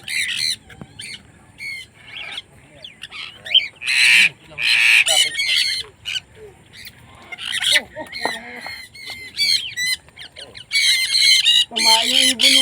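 Loud, harsh bird squawks in bursts and clusters, close by, with quieter stretches and some background chatter between calls.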